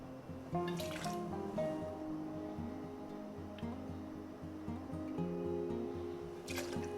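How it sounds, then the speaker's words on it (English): Cognac being poured into a cocktail shaker for a brandy flip: a quiet, steady trickle of liquid with a few faint clinks, close and alone. "Finish that up with 2 ounces of our cognac."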